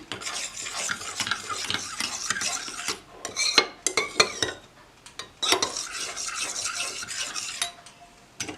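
Homemade lemon soap mixture with added lemon peel being stirred, a steady run of scraping, clinking strokes against the container that pause briefly midway, then resume, close by with no voices.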